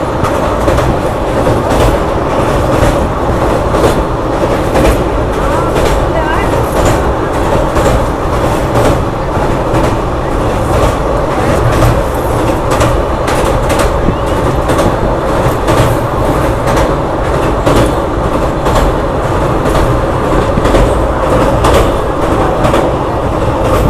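The Purva Express passenger train runs at speed after leaving Patna Junction, heard from inside as a loud, steady rumble with continuous rhythmic wheel clatter over rail joints.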